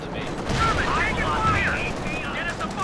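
Gunfire in Company of Heroes 2 during a Poltava Station co-op match, a steady dense spatter of shots and battle noise running the whole time, with some chirpy in-game effects on top.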